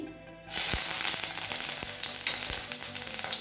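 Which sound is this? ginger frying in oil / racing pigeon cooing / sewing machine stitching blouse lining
ginger frying in oil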